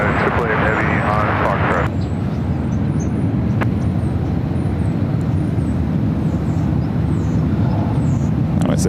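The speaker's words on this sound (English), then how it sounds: "That was a United 737 taking off on one left." A United Boeing 737 taking off at San Francisco airport, a loud steady jet roar filling the scene, with voices talking over it at the start.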